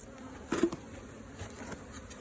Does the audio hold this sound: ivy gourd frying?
no